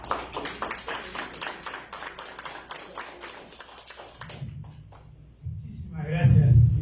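Audience applause at an international forum on conflict prevention and governance, a few seconds of dense clapping that fades, followed by a voice at a microphone.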